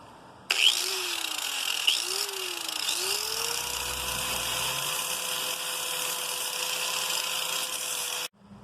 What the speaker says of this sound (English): this one here I'm going to use this 60 grit disc and just slowly start getting this sanded down